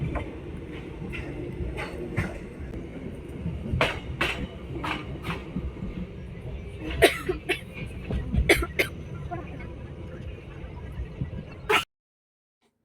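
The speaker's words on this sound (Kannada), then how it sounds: "ಕೊನೆಗೂ ಟ್ರೈನ್ ಬಂತು" A passenger train pulls into a railway station, a steady mechanical rumble broken by sharp clanks and screech-like bursts, with some nearby voices, before the noise cuts off abruptly.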